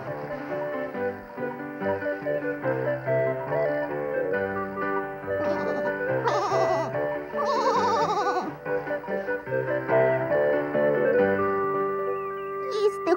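A goat in a Ukrainian children's folk tale film bleats in wavering, voice-like cries over background music. The bleats are loud and come in a couple of bursts in the middle and near the end.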